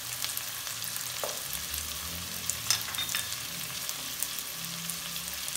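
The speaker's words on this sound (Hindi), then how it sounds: "अब टमाटर अदरक लहसुन को हमने प्याज के साथ फ्राई करना है थोड़ा सा।" Tomato, ginger and garlic frying with onion in a pan for paneer masala, giving a steady soft sizzle with faint stirring scrapes and no voices.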